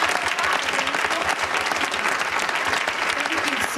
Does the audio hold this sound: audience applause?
yes